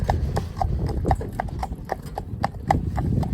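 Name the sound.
cob cross horse walking, hooves clip-clopping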